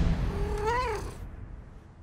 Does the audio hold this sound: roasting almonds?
no